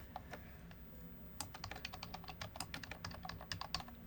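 Someone types on a computer keyboard while entering a value in CAD software, producing quiet, irregular clusters of close key clicks that grow denser partway through, with no talk.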